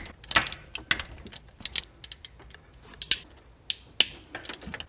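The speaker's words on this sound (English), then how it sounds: "get a Torx bit and undo these 1, 2, 3, 4 bolts to remove our shift handle" Torx bolts being loosened on the manual shift handle of a 1988 Ford F-150 with a ZF S5-42 transmission, giving a string of sharp, close ratcheting clicks in uneven bursts with no talk.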